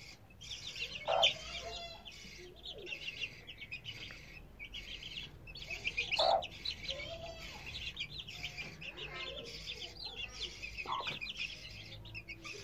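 Seven three-week-old Indian Gurk Mavici chicks chirp and cluck softly beside their mother hen, in repeated bursts of high peeping with occasional louder clucks, quiet and close throughout.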